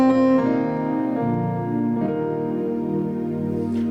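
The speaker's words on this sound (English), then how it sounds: "So you can hear there's some pads in there." Layered Yamaha Montage keyboard sound with soft pads mixed in, a sustained, blended chordal tone that swells and shifts gently throughout, close and steady with no voices.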